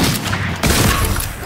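Rapid bursts of gunfire in the video game Fortnite crackle loudly and continuously, dense and close, with a sharper volley partway through.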